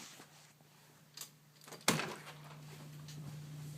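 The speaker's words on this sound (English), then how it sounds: "opening the door to outside" A door swings open onto a snowy outdoors in the aftermath of a blizzard, giving one sharp near clunk and rattle, followed by a steady low hum and faint rustling.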